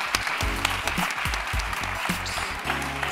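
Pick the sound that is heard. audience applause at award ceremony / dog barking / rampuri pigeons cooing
audience applause at award ceremony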